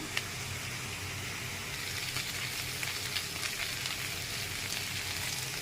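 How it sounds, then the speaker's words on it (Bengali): Green chillies sizzle and crackle steadily in hot oil in a pan, a dense, continuous frying hiss with small pops, close and alone without voices. "কাঁচামরিচ দিয়ে রান্না করবো তাই শুকনো মরিচ কম লাগবে। এটাকে ভেজে নেব।"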